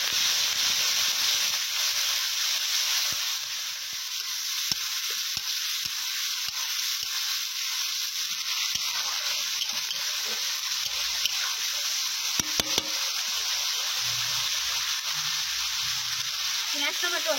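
Onion and tomato fry in a pan in a village kitchen on a rainy day, giving a loud, continuous hissing sizzle with occasional faint clicks and stirring, heard close and alone.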